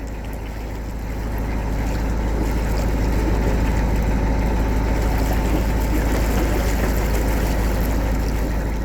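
A boat engine drones steadily and loudly, a constant low rumble with faint water wash beneath it.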